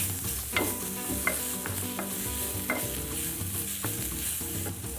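Chopped leek sizzles steadily in a hot pan, with repeated scraping clicks of a utensil stirring it close up.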